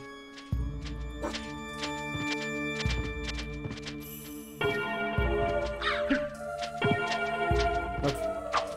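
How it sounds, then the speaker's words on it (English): Crows caw repeatedly in Castlevania: Symphony of the Night, harsh rhythmic cries recurring every second or so, loud and close over game music, with nobody talking. "My worst enemies in the game are crows."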